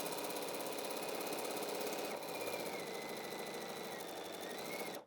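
A sewing machine runs steadily, stitching down both sides of fabric half-square triangles for a lattice bouquet quilt block. The dense, continuous whir holds for about five seconds with a slight change partway through, then stops abruptly, with no talking.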